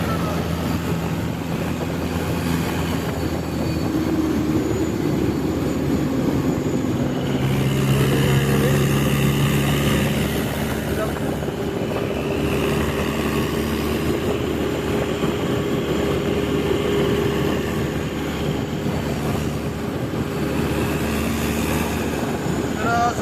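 A Mahindra tractor runs at full speed on a road, its engine giving a steady, loud drone with a rattling, rumbling hum throughout. The tone shifts slightly as the tractor moves, and a voice is heard faintly at times.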